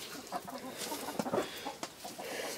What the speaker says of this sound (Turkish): Kurk tavuklarım.